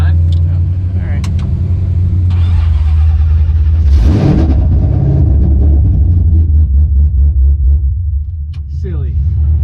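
A 1000hp pro drift car engine rumbles loudly and revs up, surging once before settling into a rough, uneven running with people talking over it.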